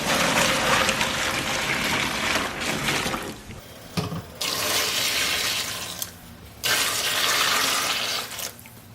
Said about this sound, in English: I'm about to go ahead and pour the water in here